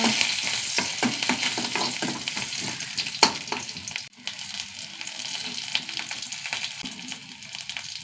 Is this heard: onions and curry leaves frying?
yes